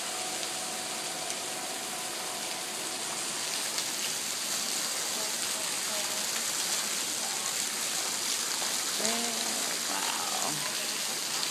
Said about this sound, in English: Ooh, rain, rain, rain, rain,